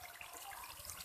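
A glass of water is poured into a pan of sautéed potato masala, giving a steady splashing, running-water wash that stays fairly soft and continuous throughout, with no voices.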